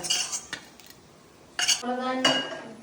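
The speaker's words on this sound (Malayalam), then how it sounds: "അപ്പോൾ ഈ കടായി ഒന്ന് കഴുകട്ടെ." Kadai being washed in a kitchen, with short metallic clanks and scrapes of the pan at the start and again later, water sloshing between them, close and fairly loud.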